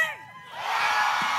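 Large crowd at a Pride festival concert cheers and whoops, rising from a brief lull into a loud, sustained roar of many voices.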